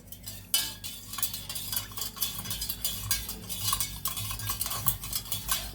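A spoon stirs lemon water in a glass or cup, giving steady, close clinking and swirling for the whole stretch, with no talking.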